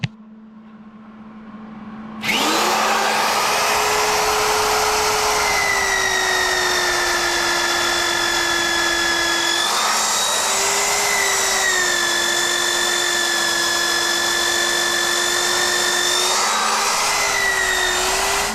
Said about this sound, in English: Now we're going to cross drill the posts with the mag drill.